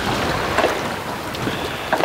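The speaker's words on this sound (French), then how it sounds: "et le vent a un peu forci." Steady wind of about 10 knots rushes over a sailboat at night, with soft water sloshing and occasional creaks beneath it.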